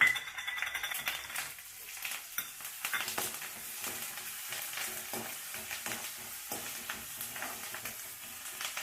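Garlic, curry leaves and green chillies fry steadily in hot oil, a continuous close sizzle with crackles and a few soft stirring scrapes.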